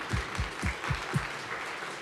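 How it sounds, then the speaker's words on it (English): Applause from an audience at an evening university short-talks event, heard as a modest, fairly distant patter of clapping with soft rhythmic bursts, no voices over it. "Let's give another round of applause to all of our speakers for tonight."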